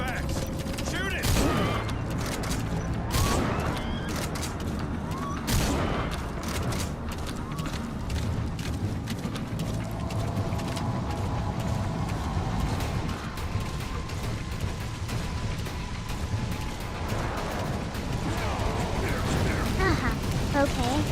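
Gunfire and mechanical clatter in the video game Metal Gear Solid V: The Phantom Pain, a dense continuous barrage with grinding, ratcheting machine noise under talk from a player.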